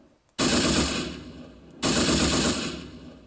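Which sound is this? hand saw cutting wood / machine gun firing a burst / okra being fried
machine gun firing a burst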